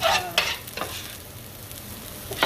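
Potatoes sautéing in a pan as they are stirred, with a few short scraping stir strokes over a faint background sizzle, close and fairly quiet with no talking.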